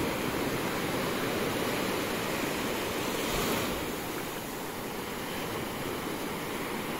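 Ocean waves washing onto a beach on a sunny day, a continuous broad rushing surf with a slight swell midway, fairly faint and alone without voices.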